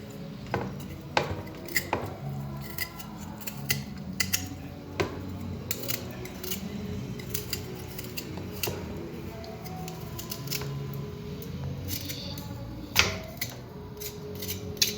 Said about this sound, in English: I'm going to be washing and at the same time grating it.